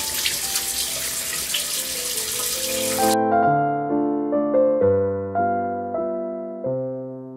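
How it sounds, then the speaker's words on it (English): A bathroom sink tap runs in a steady close rush of water for about three seconds while a face is rinsed, then cuts off abruptly, leaving only a sequence of soft background piano-like tones. "Now I'm gonna go ahead and just rinse the whole thing off."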